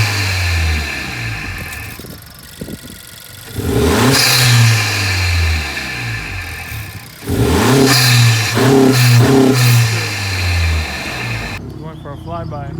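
A Honda Accord Sport with the 1.5-liter turbo engine, fitted with a new intake filter, revs loudly several times in bursts, with rising and falling pitch. Voices talk between and over the revs.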